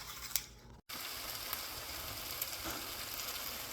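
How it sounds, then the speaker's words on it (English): Potatoes and onions fry in a pan with a steady, quiet sizzle and crackle, briefly interrupted by a short gap, with no talking. "So the potatoes and onions are in the pan frying."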